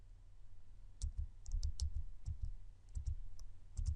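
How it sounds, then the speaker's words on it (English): Fingers tap out text on a computer keyboard in short, irregular bursts of quiet, close key clicks, with brief pauses between groups of keystrokes. "I type in a period, and then I start to type a word"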